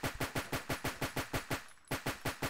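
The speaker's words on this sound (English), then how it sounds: "I can keep shooting all day." Rapid automatic fire from a Makarov pistol fitted with an 84-round drum in the video game BRM5: a fast, even burst of close, punchy shots with a brief pause before the firing resumes, no talk over it.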